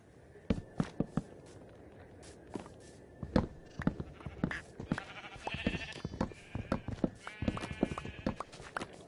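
Horse hooves clip-clop in Minecraft, a series of sharp, fairly close hoofbeats in uneven clusters, mixed with blocky game sound effects and some sheep-like bleats.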